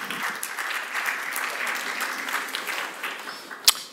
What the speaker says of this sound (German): erhebt sich sofort der Applaus, sofort der Beifall